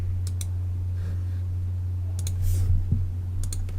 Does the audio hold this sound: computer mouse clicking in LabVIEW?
yes